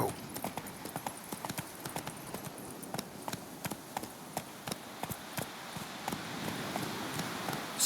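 Roach, a horse in The Witcher 3, gallops with steady rapid hoofbeats clip-clopping across the whole stretch, close and clear over a soft ambient wash.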